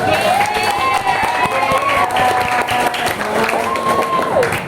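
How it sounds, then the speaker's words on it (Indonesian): A classroom group applauds, with sustained clapping and some crowd noise for nearly five seconds. Voices and tonal sounds run over the clapping. "Kelompok tepuk tangan dulu."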